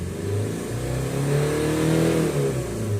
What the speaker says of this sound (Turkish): Şimdi gaz veriyorum.